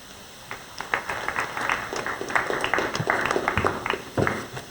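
An audience at a county legislative breakfast applauds, a dense patter of many hands that swells and then trails off, with a faint tonal hum behind it.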